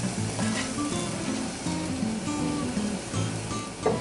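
Garlic and chives browning in a pan, a continuous moderate sizzle with soft crackles, steady throughout and without talk.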